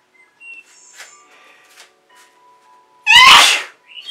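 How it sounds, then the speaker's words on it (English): A single loud, explosive sneeze near the end, preceded by quiet rustling and faint background sounds. "I may sneeze."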